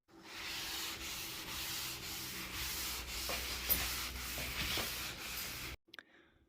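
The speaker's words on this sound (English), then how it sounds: "Now we're going to give it a good scuffing." A butcher block countertop is scuffed with a scuffing pad after its first coat of oil, giving steady close rubbing in a rhythm of back-and-forth strokes for nearly six seconds before stopping abruptly, with a few light taps after.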